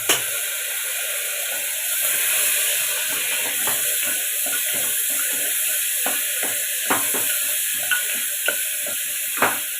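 Sprouted legumes being roasted in a pan for pulao, giving a steady close sizzle with repeated scraping and stirring clicks from a spatula, no voices.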